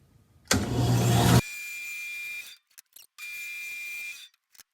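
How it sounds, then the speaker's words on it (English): A bandsaw cutting a walnut board into strips gives a loud broadband burst, then a steady whining hum that stops, pauses, and comes back for another pass. No one talks. "let's go ahead and watch pushing this through the bandsaw"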